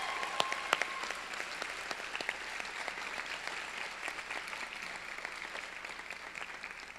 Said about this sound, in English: So please give all of our community speakers another round of applause.